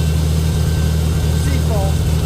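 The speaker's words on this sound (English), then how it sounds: "You can hear it sputtering just a little bit, probably some moisture in the gas." An old tractor engine runs close and loud at its first start of the year, a steady low chugging idle with slight unevenness.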